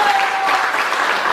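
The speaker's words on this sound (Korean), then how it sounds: "자, 소프라노 박수." Audience at a small mountain-temple concert in Jirisan applauds a soprano, a brief, full burst of steady clapping with a faint tone sounding underneath.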